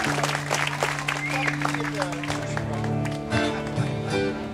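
Audience applause for a keyboard player at a live band show in Northville, Michigan, a dense spread of clapping with sustained music tones ringing underneath.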